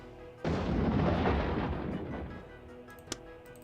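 A cannon fires in the Warhammer: Dark Omen video game with a single heavy boom that rolls and rumbles away over a couple of seconds, followed by a small sharp click.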